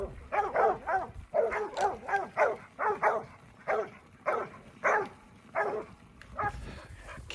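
A herding dog barks at a cow in trees while cattle are moved on a ranch, giving a steady run of sharp, fairly close barks in short spaced bursts.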